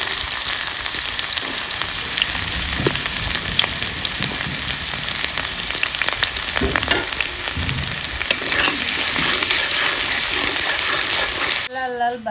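Onion and dry red chillies with a little nigella seed sizzle in hot oil for a dal dish, a steady crackling fry running close and loud throughout, with occasional stirring sounds.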